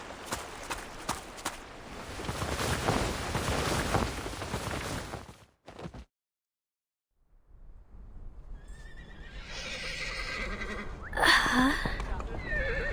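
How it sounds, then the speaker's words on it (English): Several horses whinny and neigh in a video game scene from Reverse 1999, a dense herd sound with hoof clatter that cuts to silence, then returns with distinct sharp neighs over a distant, echoing backdrop. "The sounds of dozens of horses neighing at once echoes from somewhere far away."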